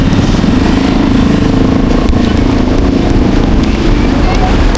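A motorcycle on a long ride roars continuously up close, with heavy wind buffeting the microphone and a steady engine drone throughout.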